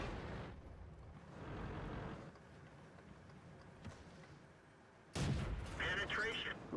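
A tank video game fills with booming cannon shots, a couple of heavy blasts and a loud one near the end, over rumbling engine ambience.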